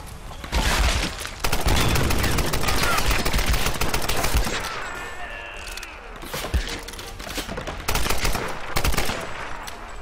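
Sustained assault rifle fire in Tomb Raider: Definitive Edition, long loud bursts of rapid automatic shots with brief gaps, then renewed strings of fire, alongside sharp impacts and combat noise.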